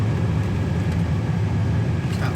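A 1978 Pontiac Firebird with a manual gearbox slows under braking on the road, its steady low engine and tyre rumble filling the cabin continuously, with no voices over it.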